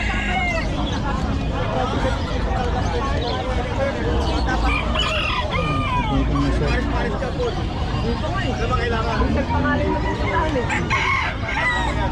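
Roosters crow repeatedly among clucking fowl at the Malabon pet market, a busy bird-selling scene with people talking and a murmur of crowd chatter throughout.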